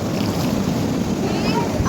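River water on the Sarati near Akluj rushes in a steady, loud broadband roar, mixed with wind buffeting the microphone, with no clear voices.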